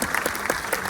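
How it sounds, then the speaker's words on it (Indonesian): A seated audience at a talk claps briefly. The individual claps come through distinctly in a quick, uneven burst that is close and fairly loud. "Tepuk tangan dulu untuk Endgame."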